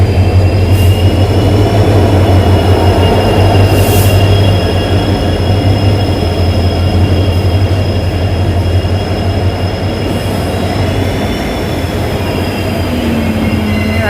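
The 22502 New Tinsukia–Bangalore Express, a train of LHB coaches, rolls through Simaluguri railway junction in India. A loud continuous rumble of wheels on rails carries steady high metallic squeals throughout.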